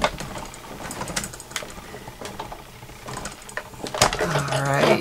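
A hand-cranked embossing machine draws a folder holding a chipboard template and cardstock through its rollers, making an irregular run of clicks, creaks and mechanical rattles at close range.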